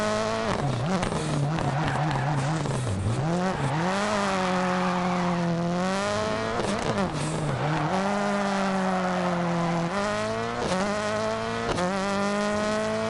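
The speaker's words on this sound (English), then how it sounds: "This must be the best sounding car in the game" A rally car in Dirt Rally 2.0 roars loudly and steadily, its engine pitch climbing and dropping through gear changes, with tires skidding and scrabbling on loose surfaces and no talk over it.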